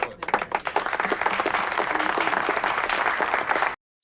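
An audience in a movie scene breaks into sustained applause, a dense steady patter of many hands that cuts off abruptly at the end.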